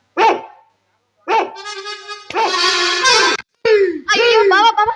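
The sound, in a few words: dog barking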